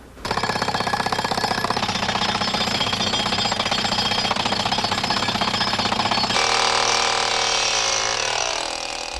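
Steady, loud mechanical pounding at a fossil dig, a continuous rapid hammering like a jackhammer breaking ground to dig holes, running without pause and shifting tone slightly near the end, with no talk.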